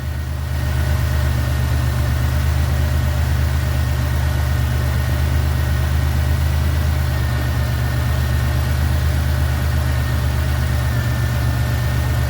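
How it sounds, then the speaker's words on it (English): A 1991 Buick LeSabre engine idles with a steady, loud, droning hum and constant vibration while the air conditioning is being charged during an R-12 to R-134a conversion. "You hear the engine change."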